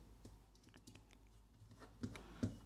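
Typing on a computer keyboard, a few quiet, scattered key taps close by, with two slightly louder presses near the end and no voice.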